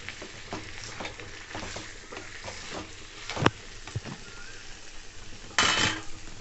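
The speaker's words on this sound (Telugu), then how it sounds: "చికెన్ వేసుకొని బాగా కలుపుకోవాలి" Chicken pieces stirred into a curry pot in a home kitchen, with soft scraping and clinking of a utensil against the pot, a few sharper knocks and a brief sizzle burst, quiet and close with no talk.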